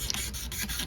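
Light scraping on a Korean Tokai LG 50Q 24-fret guitar, a close, steady rasping rub that runs continuously for under a second, with no voices.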